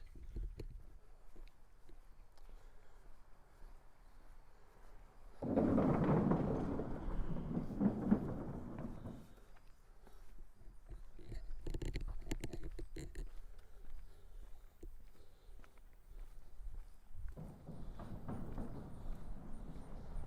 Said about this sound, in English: You can hear that it is a wooden bridge as the cars go across it.